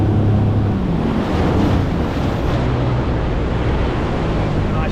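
Ocean surf breaking near a fishing shore at J Bay, a steady loud wash of wind-blown waves with no talk, constant throughout.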